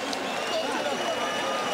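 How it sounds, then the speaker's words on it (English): A boxing arena crowd applauds and roars for Fernando Barrera in a dense, continuous wall of noise, with commentators talking over it. "they're giving a rousing applause to Fernando"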